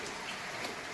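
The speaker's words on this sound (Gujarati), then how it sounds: "વરસાદ ચાલુ ને ચાલુ છે." Steady rain falling, an even, continuous patter with no pauses over the short stretch, fairly close and with no voices.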